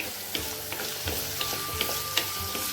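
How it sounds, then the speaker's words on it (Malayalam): Large-cut onions sauté in a pan with a dense, steady sizzle, with a few light scraping ticks from stirring. "ഇതൊന്ന് നല്ലതുപോലെ ഒന്ന് വഴറ്റിയെടുക്കാം"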